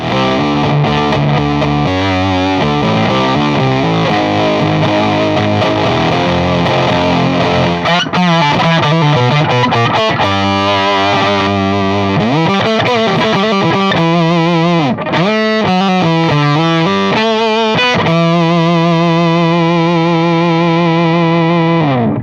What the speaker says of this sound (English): Very fuzz-like, and I guess that the control in this case controls the amount of gain